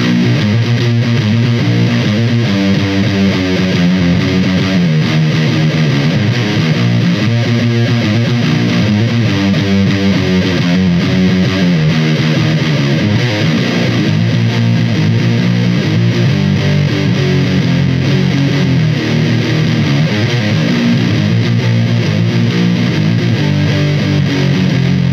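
TC Electronic Röttweiler distortion pedal on electric guitar with gain turned well down and treble cut, giving a low, woolly, thick tone; a steady riff plays continuously and loud with no voices.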